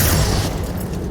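A spell being cast in the Hogwarts Legacy video game, a heavy booming blast that swells over the first half second and then settles into a rumbling low tail, loud and close.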